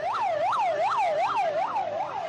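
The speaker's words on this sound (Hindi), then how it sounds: "जाए वक़ुआ पर एम्बुलेंसें भी पहुंचना शुरू हो गईं" Ambulances race to the scene of a bomb blast in Shikarpur, a wailing siren rising and falling in a regular, repeating sweep, loud and continuous with no voices.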